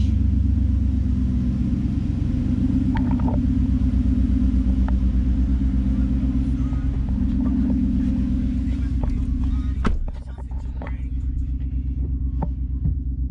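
A deep, steady exhaust rumble from a Ford F-150 5.0 with a partly installed MBRP exhaust drones continuously inside the cabin, loud and low, with some wind noise over it.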